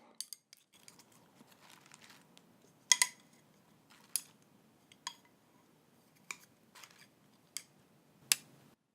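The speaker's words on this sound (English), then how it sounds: "Along with those sound effects with the chopstick is, of course, actual salad moving" A chopstick and salad shifting beside a bowl produce sparse, close, crisp clicks and taps, about ten sharp ticks spaced irregularly over faint rustling.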